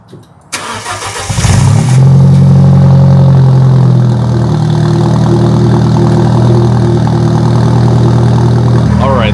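An Alfa Romeo 4C engine cranks and catches, then settles into a loud, steady idle close by as it warms up, with a few revs near the start.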